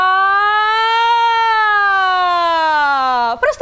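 A person's voice mimics a civil defense siren, sustaining a steady sung wail that gently rises and then slowly falls for over three seconds before breaking off into brief noise.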